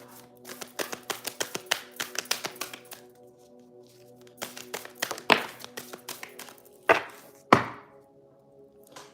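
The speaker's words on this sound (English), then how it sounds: "Last shuffle, Spirit." Quick, crisp flurries of papery clicks from cards being shuffled, coming in short bursts with a couple of louder snaps near the end.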